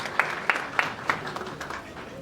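Audience clapping to welcome actress Pauly at a Malayalam movie audio release event, four sharp claps spaced evenly, then a looser patter of hands fading under a murmuring crowd.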